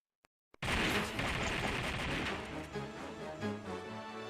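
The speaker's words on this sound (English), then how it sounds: "I'm going to shoot again." Gunfire in the Tomb Raider action adventure game: two faint clicks, then a loud sustained burst of shots and booming blasts that rumbles and gradually tails off.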